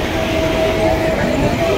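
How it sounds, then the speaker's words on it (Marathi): Mumbai local train running past Charni Road station without stopping, a steady loud rumble of rolling carriages heard from on board with a faint rail hum, continuous for the whole stretch. "ट्रेनमध्ये बसलो आपण आणि ट्रेन आहे ना ही चर्नी रोडला थांबणार नाही"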